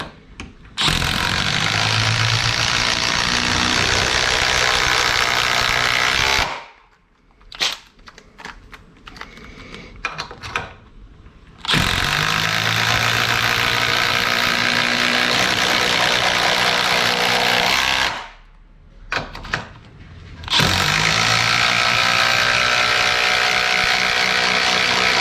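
Milwaukee M18 Gen 4 quarter-inch impact driver sinking a 4-inch lag bolt, a loud, dense hammering rattle in two long bursts of about six and seven seconds, with a short third run at the end and brief quiet gaps between.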